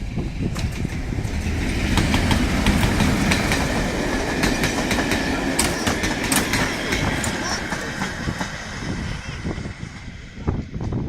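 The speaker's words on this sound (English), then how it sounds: "when the train comes through" Nene Valley Railway Post Office train, hauled by locomotive 31271, passes close by with loud clickety-clack wheel rhythm, engine rumble and brief wheel squeals, sustained for about eleven seconds before easing slightly.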